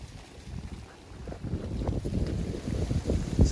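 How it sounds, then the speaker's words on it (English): Gusty wind rumbles against the microphone in low, uneven buffets at a sandpit while setting off firework rockets, rising and falling with no voices. "It's a little windy though"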